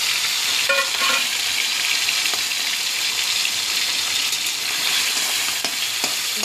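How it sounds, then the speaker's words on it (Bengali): Prawns fry lightly in hot mustard oil, a steady bright sizzle and crackle that runs throughout with a few faint clinks and a brief tonal beep in the background. "চিংড়িটা হালকা করে ভাজছি।"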